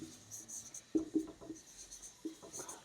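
Faint, quiet chalk or marker taps and strokes on a board as someone writes that rational numbers are abelian, a few short scratchy marks spread irregularly over a low background hiss.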